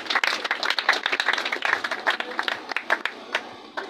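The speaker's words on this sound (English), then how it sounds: "Tunde, please a round of applause for him." A crowd claps at a school toilet-facility donation ceremony held by a Rotary Club, a steady round of applause lasting throughout with sharp, dense hand claps, fairly near, with no talking over it.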